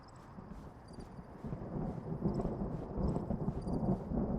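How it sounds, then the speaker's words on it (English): Thunder from an approaching storm in the video game Fallout: New Vegas rolls as a low, distant rumble that swells gradually louder and heavier toward the end. "Well, that's thunder for sure. Storm's getting closer."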